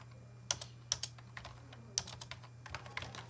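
Quick, irregular keystrokes tap on a computer keyboard, close and fairly quiet, with bursts of clicks separated by short pauses against a low steady hum.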